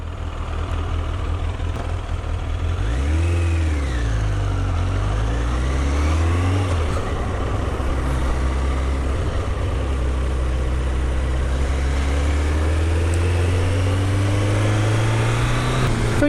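A Triumph Daytona T300 motorcycle idles at traffic lights with a steady low engine hum. The pitch wavers in slow swells and then settles, heard close against constant wind rumble, with no one talking.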